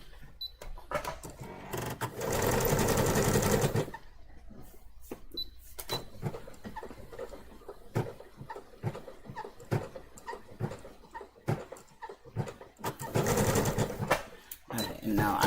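A sewing machine runs a fast zigzag stitch over stretchy fabric in loud bursts. Quieter handling and rustling sit between the runs.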